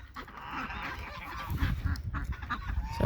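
Farmyard geese honk repeatedly and close by, overlapping calls rising and falling over a busy, noisy outdoor background.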